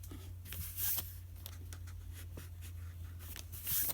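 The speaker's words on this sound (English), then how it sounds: "just go ahead and just erase all the way around on those petals between one side and the other" An eraser rubs pencil lines off paper around the petals of a drawn mandala, producing close, soft scratchy strokes in a steady back-and-forth rhythm over a low background hum.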